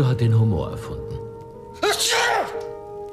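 A person sneezes once, sharp and close, after someone speaks in German; a voice follows around the sneeze.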